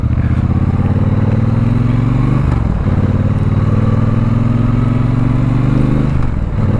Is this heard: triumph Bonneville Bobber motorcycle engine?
yes